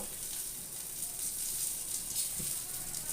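Cumin seeds, green chillies, chopped onion and whole garlic frying in a pan over raised heat, giving a steady, even sizzle throughout with no talking.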